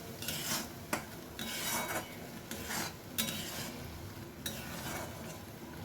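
Chicken being lightly sautéed in a pan, with a utensil stirring and scraping in repeated strokes over a soft sizzle, close and steady, with no voices.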